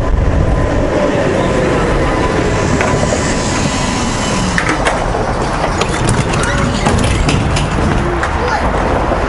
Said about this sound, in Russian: Едет 15 трамвай, но он не наш.